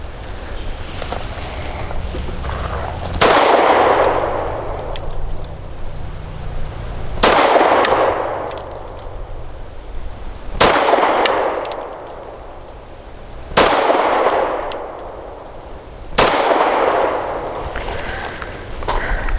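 Five sharp, loud pistol shots from an FN 509 ring out at a slow, irregular pace, each followed by a ringing clang off steel targets at an outdoor range.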